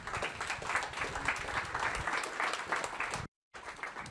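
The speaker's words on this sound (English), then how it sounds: "A round of applause for Nancy, please." Applause from a lecture audience after a science talk on art and the brain, steady, fairly faint clapping from many hands, broken by a short gap of silence near the end.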